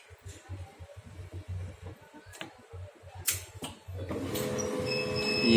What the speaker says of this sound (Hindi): देखिए इसका स्कैनर मूव हो रहा है